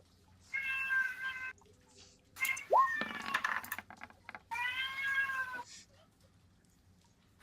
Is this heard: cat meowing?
yes